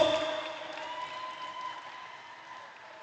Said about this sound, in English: Come on, give them a clap.